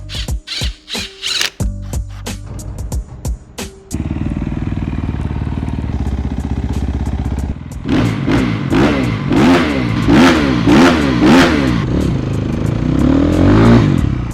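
A KOVI 300 Pro S motorcycle, 2026 model with a factory-tuned carburetor, starts with a few sharp bursts, then settles into a loud, steady idle before rising and falling through repeated close revs.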